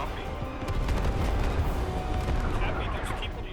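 Artillery explosions and gunfire during a large-scale Squad esports match, a dense, continuous barrage of booms and shots close and loud, with voices talking underneath.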